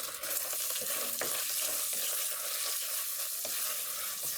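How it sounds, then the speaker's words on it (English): Bacon frying on a stovetop fills the pan with a steady, dense sizzle and crackle, with a few faint stirring clicks over the constant hiss. "So while the bacon is cooking on the stovetop"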